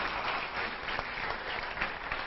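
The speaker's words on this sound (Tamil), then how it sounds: "ஒரு முறை கைத்தட்டல் கொடுக்கிறேன்." Audience applause at a college annual day function, a dense steady patter of many hands clapping together, fairly faint and even throughout.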